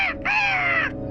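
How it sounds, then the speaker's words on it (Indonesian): A parrot, a cockatoo, lets out two harsh squawks: a short call and then a longer rasping one, close and loud over a faint low background hum. "Burung kakak tua kalian bagus sekali ya."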